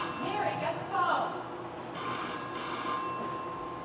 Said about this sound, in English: Mary, get the phone.